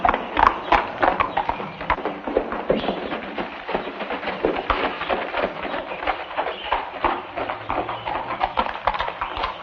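Steady clip-clop of horse hooves on a hard surface, brisk and continuous, fairly close, with faint murmuring voices underneath.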